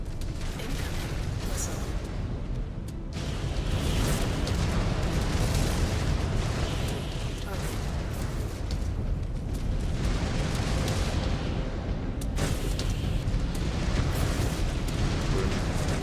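Missile explosions in the MechWarrior 5 video game, a dense barrage of heavy booms and blasts over a constant mechanical roar, loud and close, with a few sharper impacts standing out.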